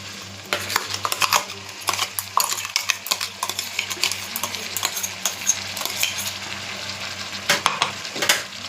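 A paste of ground onion and tomato is poured into a pan and stirred, with steady sizzling under repeated scraping and clinking of a utensil against the pan, close and fairly loud throughout.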